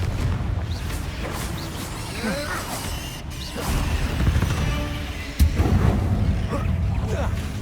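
Spell blasts and explosive bursts in the video game Hogwarts Legacy, with repeated Confringo fire amid a dense, busy combat soundscape; one sharper loud burst lands near the end.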